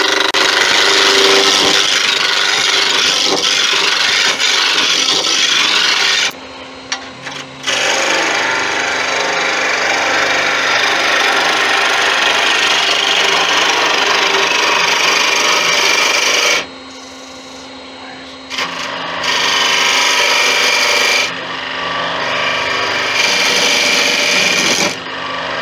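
A honey dipper handle being rounded off on a wood lathe, a loud continuous rasping scrape of the tool against spinning wood that stops briefly twice before resuming.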